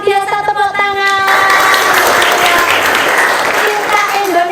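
A classroom of students bursts into applause after a short spoken line, many hands clapping together in a dense, even burst that carries on to the end.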